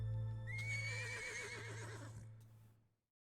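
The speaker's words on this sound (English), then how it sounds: "Horse. Oh, the horse is gonna die." A horse in a video game whinnies loudly and nearby, one long wavering neigh over a low hum that then cuts off into silence.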